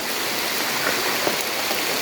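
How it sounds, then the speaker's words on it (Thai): Rain falls steadily outdoors during eel trapping, a dense, even hiss of drops with no pauses and no voices. "ฝนก็ตกนะครับ"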